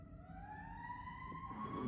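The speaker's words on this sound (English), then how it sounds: "sirens going down the road" Emergency vehicle siren passing on a road outside, a steady wailing tone rising gradually in pitch, moderately distant and fairly faint over low background rumble.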